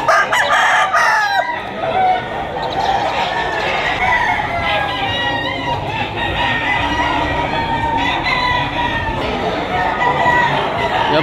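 Gamefowl roosters, including an early bird banded stag, crowing repeatedly in a noisy farm setting, several birds overlapping amid steady background chatter and clucking.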